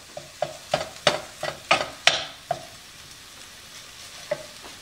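Ground meat browning with spices in a hot pan, a stirred sizzle broken by a quick series of sharp scraping strokes, then a few sparser ones, close and clear with no talking.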